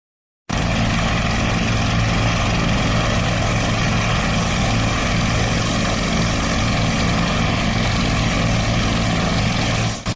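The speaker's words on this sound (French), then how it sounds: "Moment de l'extraction dans l'hélicoptère des blessés." Helicopter rotor and engine roar during an emergency medical evacuation of wounded people near the White House, a loud, steady, continuous thrum that holds unbroken for the whole stretch with no voices.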